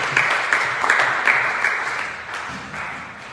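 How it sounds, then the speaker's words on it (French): A church congregation claps together during a worship service, a dense burst of applause that swells briefly and then gradually fades, with no voices above it. "Acclamons très fort le Seigneur."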